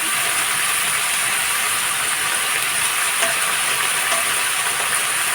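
Cut potatoes and eggplant fry in oil in a pan, a loud, dense, continuous sizzling hiss that stays even throughout without pauses.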